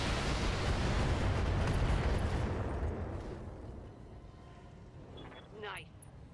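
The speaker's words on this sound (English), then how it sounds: "All weapons, fire." Mech weapons firing in the BattleTech video game: a loud, dense roaring barrage that fades after a few seconds into quieter rumbling, with faint electronic tones near the end.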